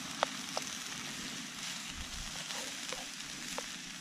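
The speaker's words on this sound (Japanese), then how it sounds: "で、まあしばらく煮込む感じでいきます。" Canned mackerel simmering in a pan at a campsite, a steady soft sizzle and bubble with occasional faint pops and clicks, close and unhurried.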